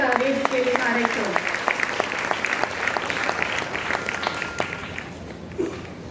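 Audience at a stage debut ceremony applauding steadily with dense hand claps, with a voice briefly heard over the clapping near the start, before the applause fades slightly.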